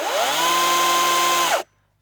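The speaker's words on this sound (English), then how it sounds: "even though this chainsaw is battery operated, it is a little bit noisy. I'll just turn it on now quickly" Mountfield MCS 50 Li battery chainsaw running steadily for about one and a half seconds, a loud, high-pitched electric whine that rises at start-up and cuts off abruptly.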